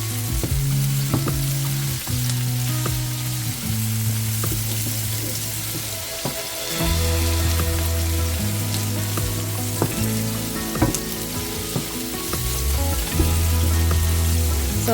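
Onions frying in a pan until dark brown for chicken biryani, a steady loud sizzle with occasional stirring clatter, close and continuous with no talking.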